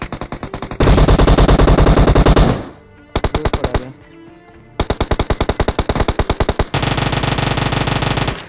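Gunfire in the video game PUBG Mobile: loud rapid bursts of automatic fire in several runs, separated by short quieter gaps, with no talking.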